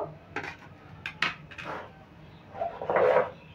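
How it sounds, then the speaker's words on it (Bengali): Paneer, 200 grams, being sliced into small pieces on a board, giving a few close, soft knocks and scrapes of knife and dish spread over a few seconds with no talk. "পনিরটা আমি পিস করে কেটে নিলাম"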